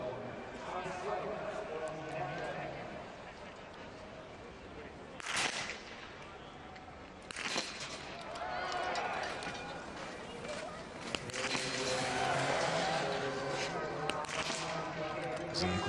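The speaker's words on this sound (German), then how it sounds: "Konzentriert die ersten beiden Schüsse" Biathlon rifle shots from prone shooting in a women's individual race at Östersund, a few sharp cracks spaced seconds apart under continuous commentary and crowd background.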